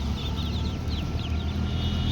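Brief stretch of many chicks peeping in quick high chirps over a low steady hum, with faint clucking from older chickens nearby, at a poultry farm.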